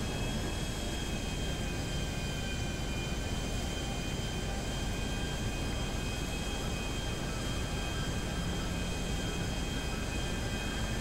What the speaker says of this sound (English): This is a private plane, so it's pretty slow.